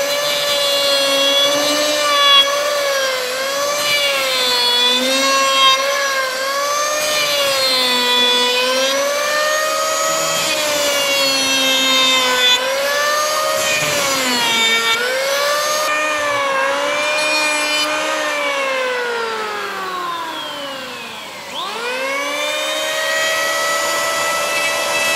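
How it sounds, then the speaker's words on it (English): An electric jack plane in a carpentry workshop cuts along a wooden board, its motor giving a loud, steady high whine whose pitch wavers with each pass. Near the end the whine sags briefly before rising again, with no talking. "now we'll use this electric jack plane"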